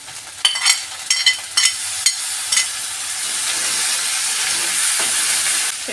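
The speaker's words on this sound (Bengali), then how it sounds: "আদা রসুনটাকে আমি একটু ভালো করে কষিয়ে নিচ্ছি, কাঁচা গন্ধটা যাতে চলে যায়।" Ginger garlic paste frying in a pan for chickpea curry: a few sharp spoon scrapes at first, then a steady loud sizzling hiss that fills the rest.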